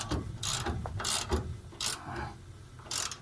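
A long wrench ratchets while torquing down a rear shock bolt on a 2003 Ford Ranger, giving several short bursts of close mechanical clicking separated by brief pauses, with no talk.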